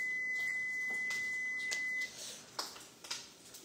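Electronic alarm beeps in a restroom, a steady high tone for about two seconds followed by short separate bleeps, quiet against faint background hiss.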